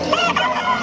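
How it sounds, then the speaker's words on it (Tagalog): A rooster crows and chickens cluck continuously at a bustling poultry seller's market in Malabon, the birds loud and close with a layered, busy chorus of calls. "Gandang manok, oh."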